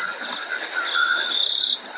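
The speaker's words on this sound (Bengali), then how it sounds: "ঝিঝি পোকার ডাক" Crickets chirping at night along a dark path through bamboo clumps, a continuous loud high trill with a pulsing rhythm and no voices.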